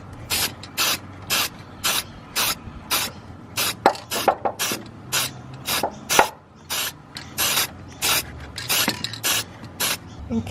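An aerosol spray can paints bare ground metal in the engine bay of a Holden Commodore with an Ecotec engine, giving about twenty short hissing bursts in an irregular rhythm, close and fairly loud, with no talking.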